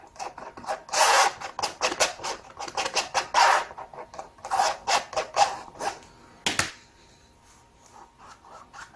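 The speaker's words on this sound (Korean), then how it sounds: "이렇게 해서 나이프로, 아까처럼 나이프로 쫙 펴주시고" A palette knife spreads blue and teal acrylic paint across a canvas in repeated close, rasping scrapes and smears, with brief pauses between strokes and no talking.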